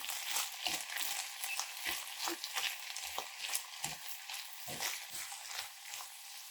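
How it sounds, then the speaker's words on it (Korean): Cabbage and shrimp stir-fry with a spoonful of anchovy fish sauce, a steady close hiss of frying with repeated soft scrapes and knocks of stirring throughout. "멸치 액젓 한 숟가락을 넣고 볶아주겠습니다."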